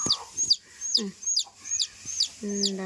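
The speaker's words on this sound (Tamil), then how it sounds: "துருவத்தில் கோழி குஞ்சு பொரிச்சிருக்கு" A hen and newly hatched chicks cluck and squawk in short bursts, close by, with repeated high chirps and a brief low voice near the end.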